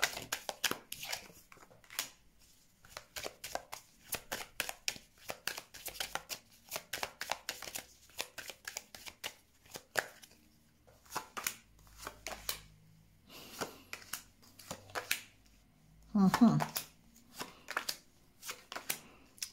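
Tarot cards shuffled by hand: a quick run of crisp, close riffling flicks and soft slaps in uneven bursts, with one louder shuffle near the end and no talking.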